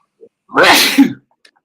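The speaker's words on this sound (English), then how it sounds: "I am sneezing like a motherfucker." A single loud, close sneeze from a person during a poker game, a sharp burst with a brief intake before it, alone with no talk.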